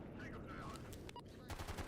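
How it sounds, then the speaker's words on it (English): Sustained video game gunfire crackles in quick, repeated shots and bursts, moderately loud, with a brief faint voice-like tone in the middle. "I'm waiting for the gunfire to chill."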